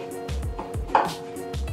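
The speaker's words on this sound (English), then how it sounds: "And then you just mix that all up." A sticky oat energy ball mixture is worked in a bowl with a spoon, giving soft rhythmic thuds and scrapes about every half second, close and moderately loud.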